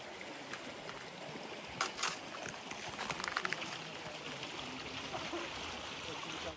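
A river flows beneath ice in the Ladakh mountains, water rushing and trickling steadily in a continuous outdoor wash, with a few brief clicks and taps over it; no clear voices.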